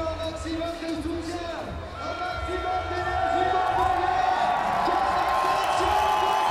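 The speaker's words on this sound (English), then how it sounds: "Here we go. Listen to the crowd." A large crowd at a BMX spine ramp final roars and cheers continuously, the noise swelling louder toward the end, with scattered whoops rising above the din.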